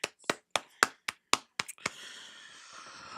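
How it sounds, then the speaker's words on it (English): A few sharp claps at a women's Elimination Chamber wrestling event, spaced out one at a time, then a soft sustained wash of noise. "round of applause."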